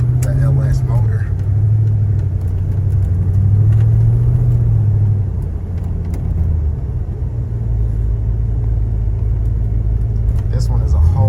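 An LS-swapped 1995 Chevy Impala SS engine running, a loud steady low rumble close by with a slight rise and fall in pitch, a person speaking over it.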